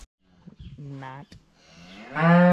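Cattle on a ranch moo in a few long, loud lowing calls, one rising strongly near the end, with quieter rustling and thumps between them.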